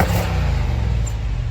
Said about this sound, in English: And you can see here's a quick rev.